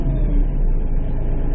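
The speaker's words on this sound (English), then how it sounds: "So as you guys may be able to hear with this tractor" A KIOTI 3510SE tractor engine idles at a steady, unchanging speed, a close, even low rumble with no revving.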